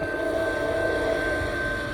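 A freight train rolls steadily past a grade crossing on a rainy day in Miamisburg, giving a continuous close rumble with a steady high tone riding on top, loud and unbroken throughout.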